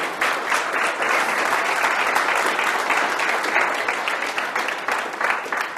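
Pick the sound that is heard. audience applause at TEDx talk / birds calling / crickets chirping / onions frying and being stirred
audience applause at TEDx talk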